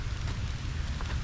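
Rain begins falling at a goat farm in Kranji, Singapore, a steady close hiss of drops with a low rumbling wash underneath, continuous throughout with no voices.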